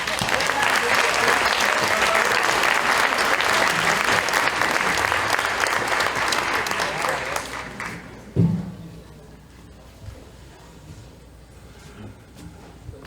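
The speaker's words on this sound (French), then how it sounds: "On l'applaudit." Loud, sustained applause from a large church audience that fades out after several seconds, leaving a quiet room with a brief thump.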